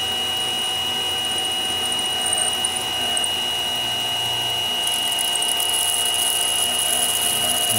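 Steady high-pitched machine whine with a constant tone and a grinding hiss, a drill boring holes in metal on a milling machine, continuous with no talking.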